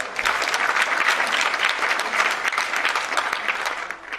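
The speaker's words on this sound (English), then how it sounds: "Let's give him a round of applause." A crowd at a political parties' dialogue on fisheries gives a sustained round of applause, thick and even clapping from start to finish with no talk over it.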